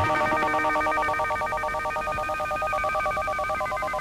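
A telephone is dialed in a film scene, a rapid run of clear touch-tone beeps repeating steadily and evenly throughout, close and alone without talk.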